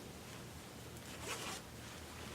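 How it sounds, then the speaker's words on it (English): Back zipper on a gathered maxi or mini skirt being pulled up, a soft rasping zip lasting under a second, close but quiet against steady room hiss, with no talking. "So this is how it is, right, for your zipper. I'm going to pull it up again."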